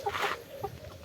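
Chickens cluck softly in short, low bursts, a couple of quick calls close by over a faint background.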